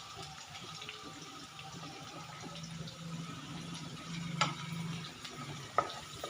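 A tempering of seasoning with a pinch of asafoetida fries for cucumber kosambari, giving a quiet, steady sizzle with a couple of sharp stirring clinks near the end and no voices.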